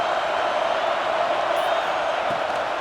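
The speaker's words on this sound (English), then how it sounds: "The roar of the crowd trying to fuel this defense to keep them pinned in their own end." A steady, loud crowd roar fills a college football video game, NC State against Stanford, holding as one dense wash throughout with no breaks.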